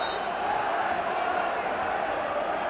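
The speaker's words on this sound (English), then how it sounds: "So the crowd getting right behind them." A football stadium crowd at a 1992 European Cup match roars steadily behind Rangers, a dense, sustained wall of cheering and chanting that holds level for the whole stretch.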